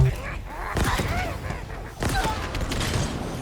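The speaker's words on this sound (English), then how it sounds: "I'm sorry, I didn't expect all the subsequent explosions." Several booming explosions go off in quick succession during Halo Infinite gameplay. Sharp blasts and rumbling bursts are layered over busy game sound, with a second cluster of hits about halfway through.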